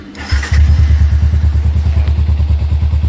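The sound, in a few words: motorcycle engine starting and running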